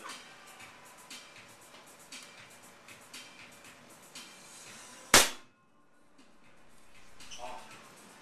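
A single sharp gunshot aimed at a propane cylinder cracks loudly outdoors, followed by a brief moment of quiet, with people talking faintly before and after the shot.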